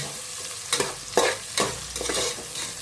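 Sliced onions frying for a red chilli chicken biryani, stirred in hot oil with a steady sizzle and several louder scraping stir strokes, close and with no voices.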